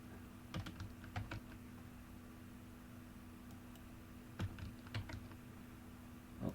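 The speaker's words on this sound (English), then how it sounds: "then you start typing your message" Sparse clusters of quiet keystrokes tap on a computer keyboard while someone composes an email, coming in short bursts separated by pauses over a faint steady hum.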